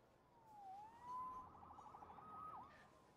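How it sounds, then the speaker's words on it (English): A police-style emergency siren wails nearby, its tone sliding up and down with a fast warbling stretch in the middle, steady and fairly loud without any talk. "Saved by the siren."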